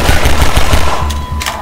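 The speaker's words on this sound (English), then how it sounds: "I like this gun. Just because it shoots really fast." A fast-firing gun in Half-Life 2 lets off a loud, close, continuous stream of rapid shots that barely pauses before trailing off.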